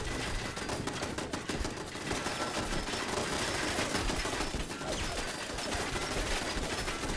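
Many turrets firing at once in Fallout 76 PvP combat, a dense, continuous barrage of rapid gunfire and loud bursts with no letup.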